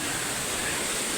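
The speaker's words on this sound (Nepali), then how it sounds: "त्यहाँबाट कति ठुलो झरना छ पानीको फोर्स" A large waterfall with forceful water pours as a steady, dense broadband roar, loud and unbroken for the whole moment, with no voices over it.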